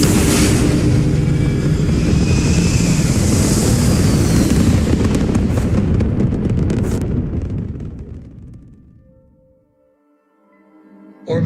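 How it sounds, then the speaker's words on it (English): A spaceship lifting off in the Starfield video game: a loud, sustained roaring rumble with wind-like rush that holds steady for about seven seconds, then fades away, followed by a faint electronic tone. "Prepare for liftoff."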